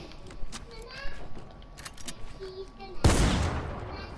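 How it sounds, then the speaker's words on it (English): Gunfire in the video game Fortnite, scattered shots under a player's talk followed by one loud, sharp close burst near the end. "Stop shooting me."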